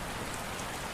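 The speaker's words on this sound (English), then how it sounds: "You can hear the rain tapping on the steel deck" Rain patters steadily on a steel ship deck at sea, a dense, even hiss of countless drops with no pauses and no voices.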